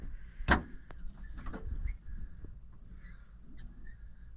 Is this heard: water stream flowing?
no